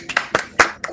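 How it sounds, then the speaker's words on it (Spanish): A few separate, close hand claps sound at an uneven rhythm in a lecture setting, brief and sparse rather than a full round of applause. "Un aplauso."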